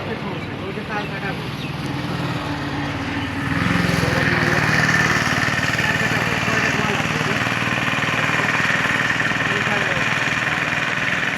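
Motor vehicles, including easy-bikes and CNG auto-rickshaws, travel a badly broken road, giving a continuous buzzing engine drone that grows louder partway through as a vehicle comes closer, with voices heard now and then.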